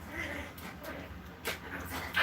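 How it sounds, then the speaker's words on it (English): Faint puppy whimpers and small yips come from somewhere in the room as they play, brief and scattered over a soft background hum. "you can hear them puppies are romping in the background"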